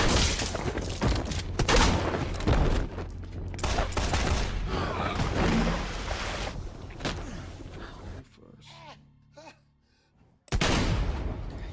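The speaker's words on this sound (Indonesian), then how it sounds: "terdengar suara tembakan di sebuah rumah" Gunshots ring out inside a house during a film shootout, a rapid series of loud sharp cracks mixed with other action noise, then a near-silent pause before a final loud burst.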